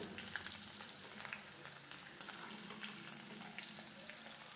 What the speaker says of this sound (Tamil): சின்ன வெங்காயம் சிறிதளவு நச்சு ஒரு எண்ணெயில் போட்டுக்கணும்